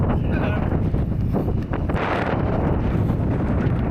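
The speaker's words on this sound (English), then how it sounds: "It's a little bit windy." Strong wind buffeting the microphone in heavy rumbling gusts, loud and continuous throughout.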